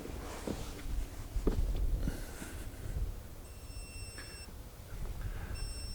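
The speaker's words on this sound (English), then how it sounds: "It's gonna beep a few times to let me know that it's starting now." A KiteX Wind Catcher wind-power device gives a few thin electronic beeps as it starts up, faint over steady outdoor rumble and handling noise with occasional knocks.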